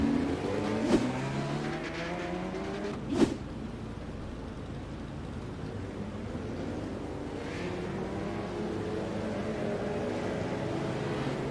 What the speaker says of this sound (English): And we did have one car go flying off the track.